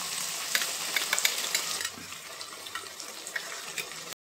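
Poppy seed paste and potatoes sizzle in oil while being stirred, a close hissing fry with sharp scraping clicks that softens midway and then continues more quietly.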